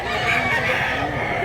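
A rooster offered for sale at a Cebu market clucks loudly and continuously up close, with a dense, raspy, agitated call throughout.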